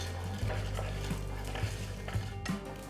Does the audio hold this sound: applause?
no